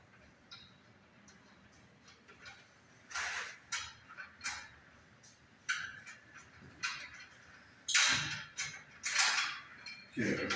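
Metal bolts being worked loose from a fire sprinkler differential dry valve, with faint ticks and then louder intermittent metallic clinks, creaks and scrapes at close range in a quiet room.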